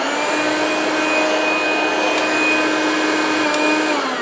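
A Flexi Power vacuum cleaner runs steadily and loudly at close range, a constant motor whine with airflow rush, no voices.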